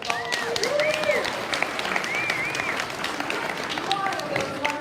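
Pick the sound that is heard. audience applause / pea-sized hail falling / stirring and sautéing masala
audience applause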